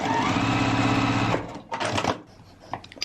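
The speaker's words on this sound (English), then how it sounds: "I can grab another strip of fabric and just keep sewing" A sewing machine runs steadily as it stitches short fabric strips together for a quilt-as-you-go project, then stops partway through, followed by soft handling noises.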